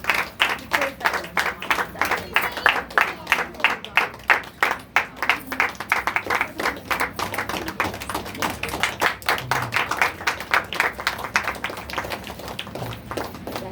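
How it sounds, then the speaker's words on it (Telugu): An audience at a Christmas prize gathering claps to welcome a speaker, with steady rhythmic applause from a small crowd close by that carries on for over ten seconds, loud and even, with no speech over it. "మీరు వచ్చిన తర్వాత అందరం కూడా చప్పట్లు కొట్టి"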